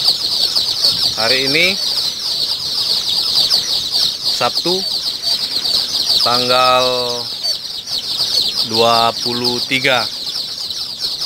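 Free-range village chickens being sorted into a second box give repeated bursts of clucking and wing flapping close by, with someone speaking over them throughout.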